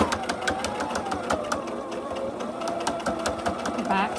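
A sewing machine runs in short back-and-forth bursts, back stitching a couple of times before sewing straight across a seam on a padded, quilted tablet bag with a zipper. The whirring motor sits close, and someone talks over it.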